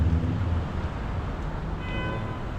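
A 7 elevated subway train rumbles past near Sunnyside station on 46th Street in Queens, a steady broadband roar with faint squealing tones from the rails, loud and continuous throughout.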